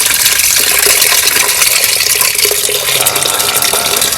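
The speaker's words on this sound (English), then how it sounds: "There's a ton of water in there." Water pours steadily from the transmission of a flood-submerged Porsche 914 during teardown, a loud continuous splashing flow with no talk over it.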